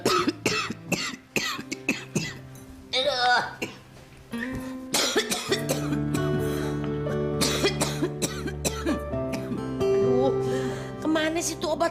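Elderly woman coughing in an Indonesian household drama, several rough, dry coughs in clusters with groans between them, close and loud over a soft background music bed.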